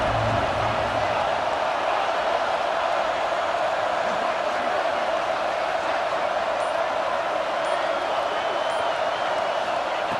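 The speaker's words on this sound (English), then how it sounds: "the crowd coming to life here, trying to help this defense down in the red zone." Stadium crowd at a Texas football game, a dense, steady roar of cheering and noise filling the space continuously at a distance, with no distinct breaks.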